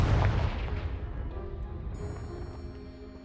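A Confringo blasting spell explodes in Hogwarts Legacy on PS5: a loud, close boom hits at once, then a deep rumble trails off and fades over a few seconds, with no voices.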